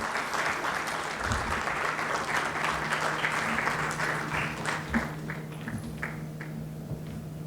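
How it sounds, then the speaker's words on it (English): A conference audience at a national stroke medical event gives a welcoming round of applause, dense steady clapping that tapers into scattered individual claps near the end, with a faint hum underneath. "can we please welcome sir with a huge applause"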